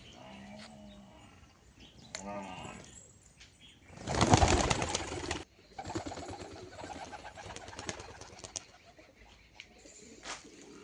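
Pigeons in a home loft coo in low warbling bursts, interrupted by a loud rush of flapping wings in the middle, then quieter shuffling and more soft calls.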